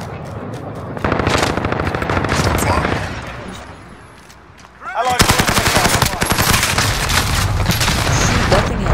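Rapid automatic gunfire rattles in Modern Warfare, two long bursts with a brief lull between them, loud and up close.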